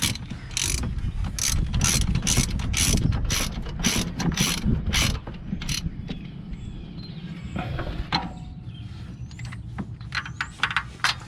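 A ratchet wrench snugs a bolt on the spool valve of a 2010 Honda Odyssey engine, with a rapid series of sharp clicking strokes, then slower scattered clicks, close up and without talk.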